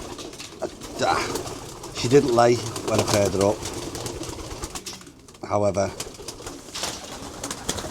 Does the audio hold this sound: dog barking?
no